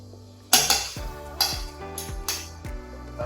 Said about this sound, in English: Take our fork. We're just going to lightly mash it up.